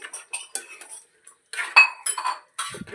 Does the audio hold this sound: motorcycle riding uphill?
no